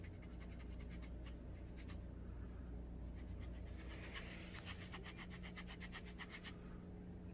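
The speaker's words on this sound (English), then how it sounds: "they use a pumice stone to eliminate that" A pumice stone rubs steadily against a callused hand, giving a soft, close, continuous scratchy scrubbing with a rapid repetitive back-and-forth rhythm over a low background hum.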